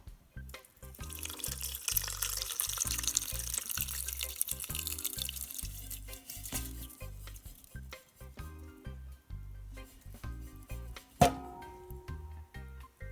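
Calendula-infused oil is poured and strained for a homemade skin salve, trickling and splashing close by in an uneven stream, with a sharp clink of a container partway through.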